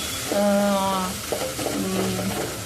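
Cumin seeds, onion and ginger fry in oil in a pan, sizzling under two droning, tonal hums that rise and fade.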